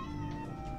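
A pet cat meowing nearby, one drawn-out, tonal meow that sounds slightly complaining and fills the whole short moment.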